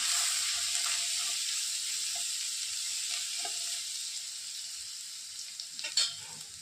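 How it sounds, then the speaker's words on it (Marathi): Cumin seeds sizzle in hot oil with ground ginger and garlic as they are sautéed, a steady frying crackle that stays even and close, with a few light stirring clinks near the end and no talk. "थोडंसं जिरे टाकायचं छानसं आपण परतून घ्यायचं"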